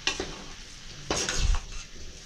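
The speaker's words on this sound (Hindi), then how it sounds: "छोलों को अच्छी तरीके से चलाते हुए मिक्स करेंगे।" A spoon stirs Punjabi Pindi chole, a chickpea curry, in a pan: scraping, sloshing stirs with a few metallic clinks against the pan, loud and close, with no talk.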